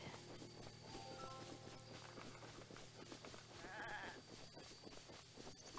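A goat in Zelda: Breath of the Wild gives a faint bleat amid in-game footsteps and ambient game audio, heard low in the mix.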